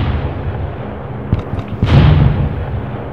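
Tank cannon blasts in the multiplayer video game Gettysburg Armored Warfare, a sharp boom near 1.3 s followed by a heavier, longer roaring shot around 1.9 s that rumbles on over a low engine drone.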